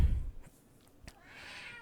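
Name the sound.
pet cat Thief Kitty howling in the background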